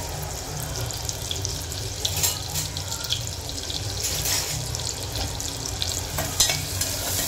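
Onion and curry leaves sauté in hot oil in a pan, giving a steady, close sizzle with occasional stirring scrapes and clinks throughout and no talking.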